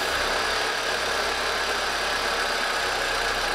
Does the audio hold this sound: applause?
no